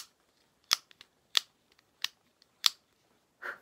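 An EDC liner lock pocket knife is flicked open several times, giving crisp, close, bright metallic clicks at a steady pace, followed by a softer final snap.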